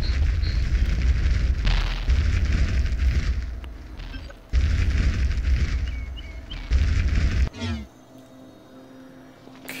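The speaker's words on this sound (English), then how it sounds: "The first spell you'll learn from the destruction discipline is Fireball." A Fireball destruction spell cast in the video game Vengeful Rites gives several loud roaring whooshes with deep booming bursts, repeating in waves before cutting to a quieter tail.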